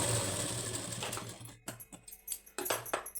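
A sewing machine stitches a blouse in a short steady run that stops after about a second and a half, followed by a few close clicks and taps of handling the fabric and machine.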